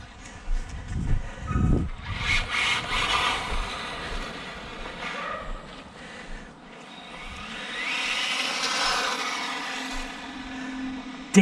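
An Arrma Mojave Grom BLX brushless RC car tearing along at full speed outdoors, its high electric whine rising and falling as it passes, with a couple of loud bumps near the start.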